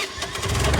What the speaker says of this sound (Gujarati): બાઇક બી જલ્દી ચાલુ નહીં થાય ગાઈસ